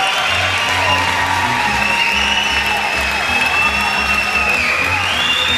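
Spectators at a 2006 US Open racquetball semifinal cheering and applauding: a loud, sustained wash of clapping, whoops and shouts from a packed crowd, with a commentator's voice and occasional whistles over it.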